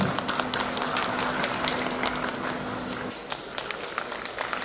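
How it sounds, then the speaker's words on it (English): Outdoor audience at a riverfront event in Shillong clapping, a dense continuous patter of many hands at moderate distance, with faint voices underneath. "A loud round of applause, ladies and gentlemen."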